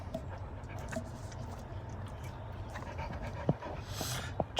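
A dog pants steadily and close by after a walk, with quick rhythmic breaths and a few faint whimpers and small noises, no talking.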